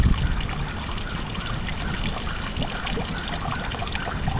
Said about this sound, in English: that water flowed along the surface and is now moving downhill here